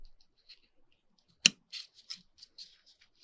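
Scissors snip through plastic packaging being reused as a cover: one sharp loud cut followed by a quick run of lighter snips and small clicks, close and alone with no talking.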